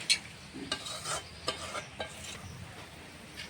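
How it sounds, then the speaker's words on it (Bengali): Katla fish curry gravy made with cashew paste and yogurt simmers quietly in a pan, a soft bubbling broken by a few faint scrapes and taps of stirring. "ঝোলটা ভালো করে ফুটিয়ে নিয়েছি,"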